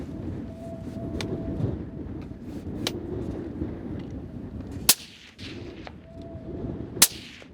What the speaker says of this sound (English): First 3 shots through the gun went really smooth.